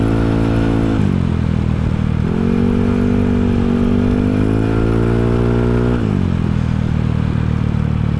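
A stock Yamaha Mio Sporty scooter with a 160cc displacement engine revs steadily and loud up close, its pitch dipping and climbing through several throttle changes over a continuous rumble.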